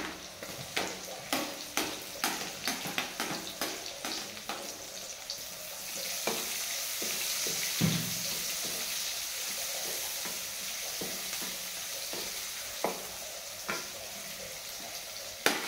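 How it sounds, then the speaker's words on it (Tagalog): Garlic, onion and ginger sauté in a pan with a steady hiss. Light clinks from stirring and a few soft knocks come through, and no one speaks. "Bawang, sibuyas, luya. Igigisa natin."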